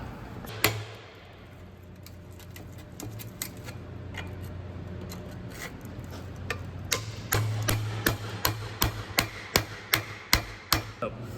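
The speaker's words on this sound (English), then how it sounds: "I'll just get my hammer and give that a little tap" Sharp metallic hammer taps on a 2014 Kia Sorento 3.3L engine part during engine removal, sparse at first, then a steady run of evenly spaced strikes growing louder toward the end.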